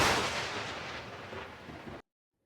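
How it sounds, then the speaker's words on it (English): A lightning strike thunder sound effect booms loudly and rolls off in a broad rumble over about two seconds before cutting abruptly to silence. "I'm gonna do a lightning strike sound effect."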